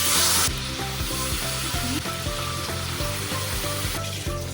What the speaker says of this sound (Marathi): हे मॅरिनेट केलेलं चिकन आता तेलामध्ये जाणार आहे फ्राय व्हायला